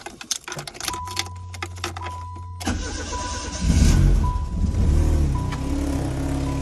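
Yugo car engine cranks and catches after a few sharp ticks and clicks, then settles into a rough, steady running idle close by.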